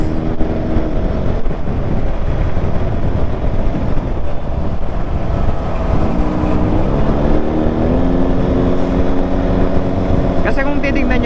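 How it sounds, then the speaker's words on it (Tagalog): Steady engine drone heard from inside a moving Toyota Vios, a constant road rumble with a faint shift in pitch partway through. "Nakaka-enjoy, na relax yung tunog ng Vios"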